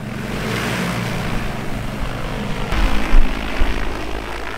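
An agricultural spray drone flies over a field, its propellers giving a steady loud buzzing drone throughout that swells briefly near the end, heard alone with no voices.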